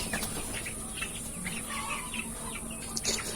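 Sonali chickens cluck and chirp softly in a low-cost poultry shed with no electric fan during hot weather, with scattered short calls over a faint, constant background hum.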